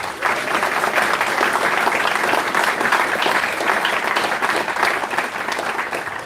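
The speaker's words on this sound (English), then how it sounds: "Give them a round of applause." A conference audience applauds Graftgold's Andrew Braybrook and Steve Turner, a loud, dense and sustained burst of many hands clapping with no letup for the whole stretch.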